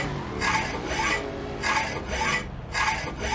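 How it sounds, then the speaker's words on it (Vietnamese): A saw rasps back and forth in the video game GTA V, steady rhythmic strokes repeating about every half second, fairly loud and heard on its own. "Tiếng cưa nghe có vẻ không giòn đâu."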